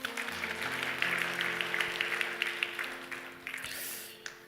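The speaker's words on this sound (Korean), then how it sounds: "하나님께 우리 영광의 박수를 드릴까요?" A church congregation at a Sunday service claps together after a sermon, a dense, roomy wave of applause that holds steady and then thins out toward the end.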